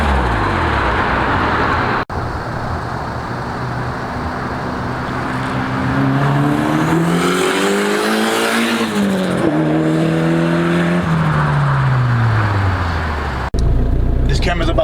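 A Honda Civic fitted with an eBay turbo kit revs up loudly, pitch climbing and falling through several gear-like sweeps, recorded close from inside the car.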